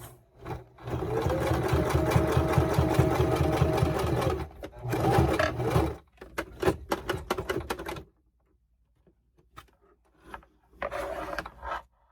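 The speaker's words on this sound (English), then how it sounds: "we're just going to base stitch it on within the seam allowance" A sewing machine basting a strip of Velcro onto fabric within the seam allowance runs in steady rapid bursts of stitching, pausing and restarting several times, close and clear, ending in a few short stitch runs.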